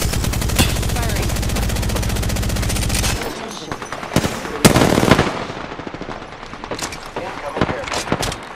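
Automatic gunfire in the battle royale game Apex Legends: a dense, loud sustained burst for about three seconds, then scattered single shots and short bursts with a clipped in-game voice line in the mix.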